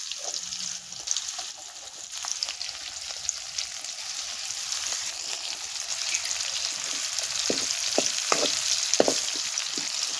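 Onion frying in a pan over a wood-fired stove outdoors: a moderate sizzle with repeated short scraping stirs that grow busier in the second half.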